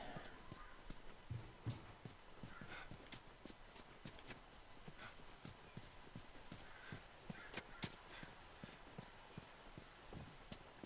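Horse hooves clip-clopping in The Last of Us Remastered video game, a steady continuous run of hoof beats with a whinny-like note and game ambience throughout.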